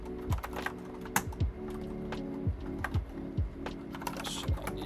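Rapid, uneven keystrokes clatter on a computer keyboard, close and distinct, with short bursts and brief pauses between the key presses.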